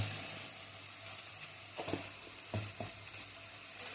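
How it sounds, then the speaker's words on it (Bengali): Ground spices such as turmeric and chili powder frying in a pan for an eggplant dish, with a steady soft sizzle and a few scraping stirs of a spoon, close and quiet, no voices. "দিয়ে আবার আমি এটাকে নাড়বো।"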